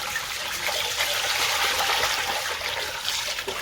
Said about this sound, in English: the first step is to wash the rice